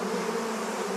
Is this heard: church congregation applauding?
no